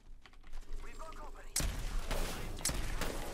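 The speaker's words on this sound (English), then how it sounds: "Wait, I want to do an aerial shotgun." Peacekeeper shotgun blasts from the video game Apex Legends: two loud, sharp broadband bangs a second apart, following a stretch of quieter game noise and faint voice, with a continuous gunfire-like roar after the first shot.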